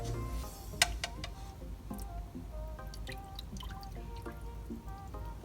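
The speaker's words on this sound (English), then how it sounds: "But I just put the RO water that's in these buckets in this cup." Reverse-osmosis water poured from a bucket into a cup, giving soft trickling and dripping splashes that come and go in short irregular bursts over a low room rumble, close by and fairly quiet.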